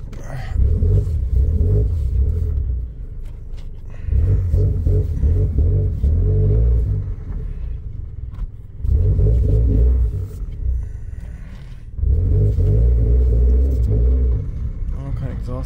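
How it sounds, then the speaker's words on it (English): A Nissan Silvia S15 Spec-S engine revs in repeated surges, its loud aftermarket exhaust rumbling deep, rising and falling about every three seconds, with a person talking over it. "I don't know what kind of exhaust this thing has, but it's kind of loud."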